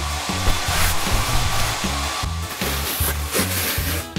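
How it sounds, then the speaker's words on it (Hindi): A hair dryer blows on a puppy, its close, loud, steady whine pulsing in a regular rhythm throughout, with no talking over it. "Hair dryer."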